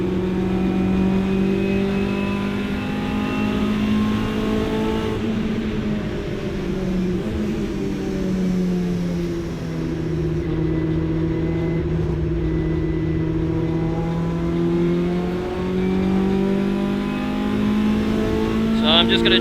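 Hot hatch race car in a 750 Motor Club qualifying session at Silverstone, its onboard engine droning loud and steady throughout as revs rise and fall through gear changes, with a driver talking over it.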